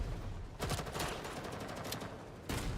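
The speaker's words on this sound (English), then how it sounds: "You hear the gunshots out there?" A steady stream of muffled gunshots in the game Girls' Frontline 2: Exilium, fairly faint and distant, rattling on for a couple of seconds with a louder burst at the end.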